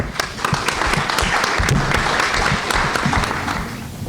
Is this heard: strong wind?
no